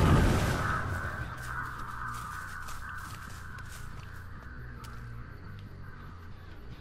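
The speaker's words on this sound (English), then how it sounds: "Crows are going off, so someone's in that direction." Crows cawing in Dead by Daylight, a flurry of raspy calls and fluttering right at the start that fades into a quieter ambient hum.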